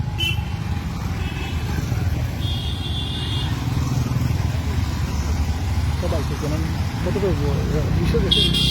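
Motorcycles in a large protest bike rally on a town road, their engines droning steadily with a few horn blasts, while a voice talks over the traffic.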